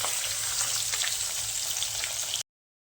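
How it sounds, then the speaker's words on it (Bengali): Small puti fish, rubbed with salt and turmeric, frying in hot oil in a pan in a village kitchen, giving a steady, dense crackling sizzle that stays close and even throughout and stops abruptly near the end. "একইভাবে আর দু পিস মাছ আছে আমি ভেজে নিচ্ছি"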